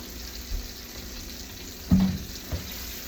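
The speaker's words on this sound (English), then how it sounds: "sounds nice, sizzling away" Quiet, steady sizzling of pork chops frying in a pan, with a couple of soft clunks and a brief louder scrape partway through.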